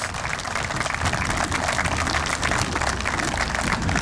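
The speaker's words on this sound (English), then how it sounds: "let's give FDOT another round of applause" A crowd applauds steadily at a trail grand opening ceremony, a dense, even wash of clapping hands that holds at the same level throughout.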